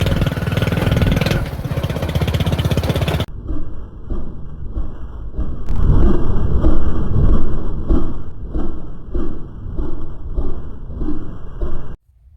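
A vehicle engine runs loudly and close while reversing, first with a harsh, dense roar, then with a steadier, slightly rising mid-pitched drone and some rattling, before cutting off abruptly at the end.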